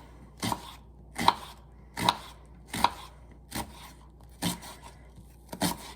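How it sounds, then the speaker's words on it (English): An onion chopped with a knife on a board, about eight distinct, evenly spaced thuds close up, with quiet gaps between strokes and no talk. "So we need to chop the onion."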